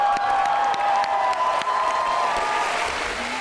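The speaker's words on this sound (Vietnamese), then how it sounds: "một lần nữa tràng pháo tay thật lớn dành cho Phượng Vũ" Studio audience applauding contestants on the stage of a Vietnamese celebrity impersonation TV show, a steady dense wash of clapping with a faint tonal hum or music held underneath throughout.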